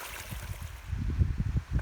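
Silty glacier meltwater stream running down a valley on the Loowit Trail around Mount Saint Helens, a close, steady low gurgling and churning flow.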